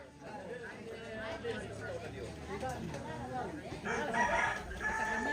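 A rooster crows over a busy background of chattering people and other fowl sounds, and the crowd noise swells toward the end.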